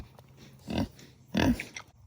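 Farm pigs give two short, close grunts about half a second apart, low and rough, with quiet pauses around them.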